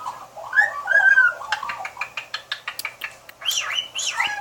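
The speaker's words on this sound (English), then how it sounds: "Look, that's a magpie and a cockatiel." A magpie and a cockatiel call: warbling whistles give way to a quick run of sharp chirps and then looping squawky whistles. The calls are close and lively, with no voices.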